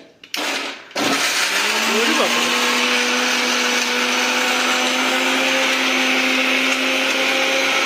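An electric mixer grinder runs continuously while grinding masala paste in a home kitchen, a loud steady whirring motor drone with a buzzing hum that starts abruptly after a brief pause and continues to the end.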